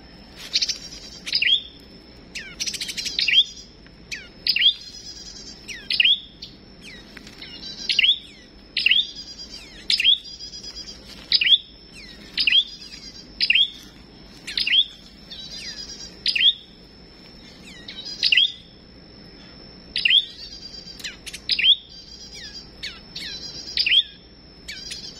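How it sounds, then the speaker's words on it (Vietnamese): A yellow starling singing outdoors, loud and close, repeating bright whistled chirps in short bursts roughly every second or two, with a thin steady tone and no talking. "Chim sao vàng á."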